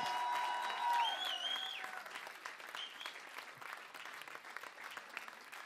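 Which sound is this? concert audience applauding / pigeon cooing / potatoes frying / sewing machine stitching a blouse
concert audience applauding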